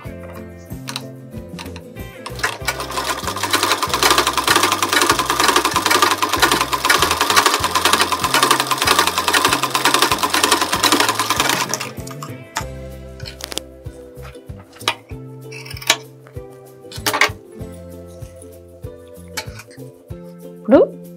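A sewing machine runs in a steady, fast mechanical clatter while a Telugu-speaking tailor stitches a folded blouse edge, then stops and gives way to intermittent handling of fabric and small clicks as a voice talks nearby.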